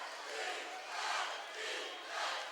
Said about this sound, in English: You hear the Eagles chant